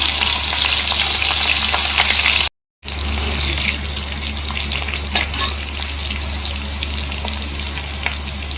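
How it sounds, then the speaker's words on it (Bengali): Bay leaf and black cumin seeds sizzle in hot oil, a loud, continuous crackling hiss with a brief cut partway through and faint stirring clinks, no talking. "এই তেলের মধ্যে একেবারে আমি এই যে তেজপাতা দিচ্ছি আর একটু কালো জিরে ফোড়ন দিচ্ছি"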